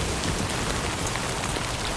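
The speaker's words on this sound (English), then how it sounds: "I think it's rainy." Steady rain falls in the video game Death Stranding 2, a dense, even hiss of drops on surfaces with no pauses and no voices.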